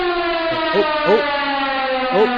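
Siren sounded to mark a perfect NFL betting week on a sports picks show, a steady harmonic wail with a few rising swoops layered over it, loud and sustained throughout with no talk.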